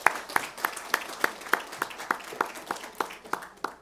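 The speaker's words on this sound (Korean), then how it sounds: "우리 한번 다시 박수하겠습니다." A church congregation gives a Christmas service round of applause in a slow, even rhythm of about a dozen sharp, unison claps, like a crowd clapping together on a beat.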